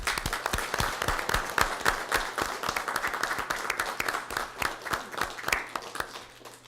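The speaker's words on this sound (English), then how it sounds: "I'd like to give them a round of applause for their courage" An audience at a City of Commerce meeting gives a round of applause, a scattered crowd clapping with distinct, uneven claps that carry on steadily for several seconds.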